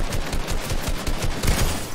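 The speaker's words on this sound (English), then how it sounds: "Yo, where is this dude shooting?" Gunfire in the video game Fortnite during an arena box fight, a loud, dense burst of rapid shots that rattles continuously for two seconds without pause.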